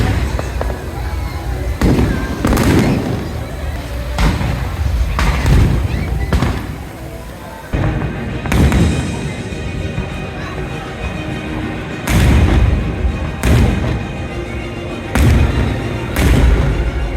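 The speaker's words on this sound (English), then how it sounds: "soon after, the fireworks started." Fireworks show bursting over a theme park castle, a series of loud booming thuds and crackles at irregular intervals, with crowd noise and chatter between the blasts.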